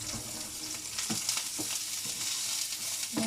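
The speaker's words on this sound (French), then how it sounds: "On entend l'oignon qui chante dans la poêle." A yellow onion sizzles and crackles steadily in a frying pan, a dense, close hiss with occasional louder pops and stirring clicks, and no one talking.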